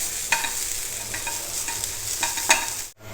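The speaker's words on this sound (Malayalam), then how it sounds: "എണ്ണ ചേർക്കാതെയാണ് ഞാനിപ്പോൾ വറുത്തെടുക്കുന്നത്." Grated coconut dry-roasting in a pan without oil, soft scraping stirs and a light crackle, close and fairly quiet, with no voices.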